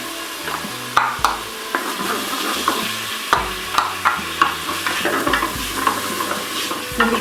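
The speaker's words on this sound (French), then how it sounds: "donc je fais revenir les lardons" Lardons, shallot and garlic sizzle in a Moulinex Cookeo multicooker while a spoon stirs them. The spoon taps and scrapes in a regular rhythm over a continuous frying hiss, with light music underneath.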